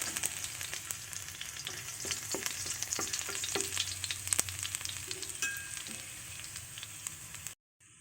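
Garlic frying in hot oil as the first step of Filipino ginisang mongo, a continuous bright crackling sizzle with scattered pops and light stirring, close and steady before cutting off near the end.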